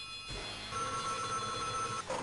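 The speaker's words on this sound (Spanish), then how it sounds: "Ahora están llamando el teléfono al alcalde" Telephone ringing in the arcade game Final Fight, an electronic bell trilling in two sustained bursts with a brief pause between, loud and clear over a low game background.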